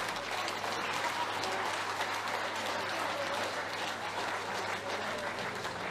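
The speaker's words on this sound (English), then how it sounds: "A massive round of applause" Sustained, dense applause from a large audience fills the room for the finalists of a Welsh Open snooker final, steady and unbroken from start to finish.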